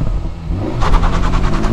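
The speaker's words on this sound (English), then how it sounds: "Nice little pops from the exhaust." A 2024 Acura Integra Type S with a 2-liter turbocharged engine idles low after coming to a stop, then a quick rapid crackle of exhaust pops breaks out loud and close over the engine note.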